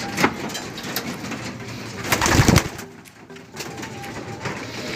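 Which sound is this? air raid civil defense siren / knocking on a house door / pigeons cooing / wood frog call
pigeons cooing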